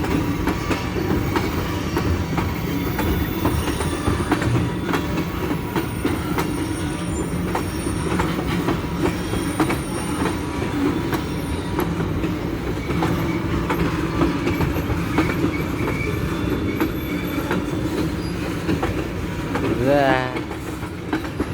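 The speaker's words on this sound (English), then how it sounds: "That sounds like brakes." A TP&W westbound freight train braking in Watseka, Illinois, with a long steady rumble of rolling wagons and wheel clatter, building to a rising metallic squeal near the end. Faint voices can be heard in the background.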